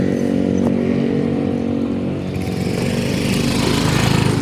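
A motorcycle idles in the dark early morning near Antipolo, Rizal, its engine a loud, steady close rumble with a slight rise in revs toward the end.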